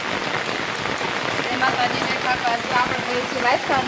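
Steady rain pours down outdoors during dishwashing, a dense continuous hiss of drops on surfaces, while voices talk over it throughout.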